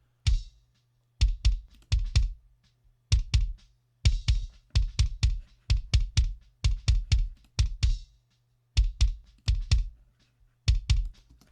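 A kick drum and bass groove played with compression switched in partway, giving repeated punchy low thumps with bright clicky attacks in a steady rhythmic pattern, loud and close with no voices.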